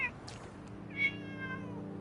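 A cat meows once, a clear mid-pitched call, close and moderately loud over a low background hum, with faint rustling before it.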